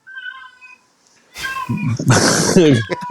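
A cat meows close by, a few short tonal cries at first, then louder drawn-out meows alongside a voice talking.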